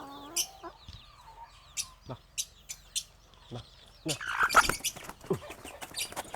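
A native (naadan) hen clucks in short, scattered bursts close by, with a busier spell of calls partway through, while a person talks nearby.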